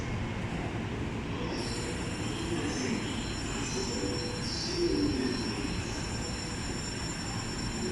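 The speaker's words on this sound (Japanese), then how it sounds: "8番線列車も来ます" Joban Line train moving along a platform at Ueno Station in Tokyo, a continuous rumble of wheels on rail with faint squealing tones and a brief rise in loudness partway through, heard without talk.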